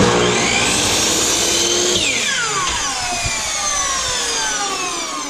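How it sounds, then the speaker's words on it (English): A miter saw cuts the corner off a wooden trim board, its loud steady whine sliding down in pitch as the blade passes through the wood and spins down over several seconds, with no talk. "So what I'm going to do is I'm going to flip my board over and I'm going to cut off"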